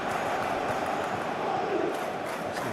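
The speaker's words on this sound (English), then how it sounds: "the crowd are reacting to that now" Stadium crowd in a PES 20 football simulation of Sporting versus Bodo/Glimt, a steady dense roar of many voices holding at an even level throughout.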